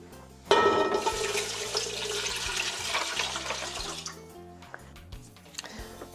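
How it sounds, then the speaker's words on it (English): Water pours steadily into a soup pot for a red lentil soup, a bright rushing splash that starts abruptly, runs for about three and a half seconds, then stops, leaving a few faint drips and clinks. "So next we have 4 cups of water."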